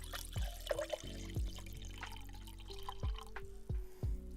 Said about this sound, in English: Would you like to hear some water ASMR?